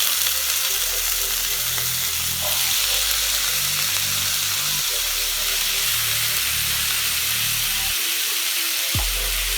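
Sweet potatoes and onions fry in a little oil in a pan, giving a steady, close sizzle with soft stirring and pan noises throughout and a brief clatter near the end.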